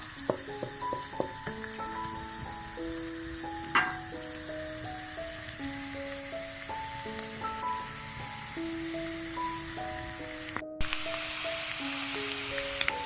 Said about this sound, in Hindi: अब ये चिलड़ी फ्राई हो गया, देखिए इसकी रंगत चेंज हो गई